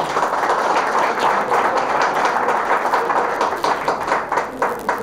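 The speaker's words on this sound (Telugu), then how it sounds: "అందరం స్వాగతం పలుకుతూ గట్టిగా చప్పట్లు" Audience at a peace committee meeting clapping loudly to welcome a newly arrived officer, a close, dense burst of many hands striking in quick irregular bursts, sustained for several seconds without speech.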